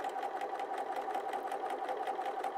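Sewing machine stitching piping with a 3 millimeter stitch length, a steady fast mechanical whir with rapid regular needle ticks, close and continuous with no talk.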